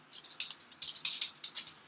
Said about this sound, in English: That's the sound of my dog chasing her tail.